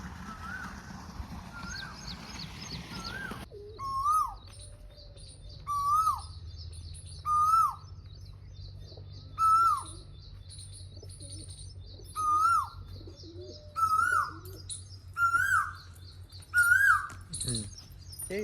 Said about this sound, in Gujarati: બોલે મિત્ર કોયલ મસ્ત મજાના ટવકા કરે કોયલ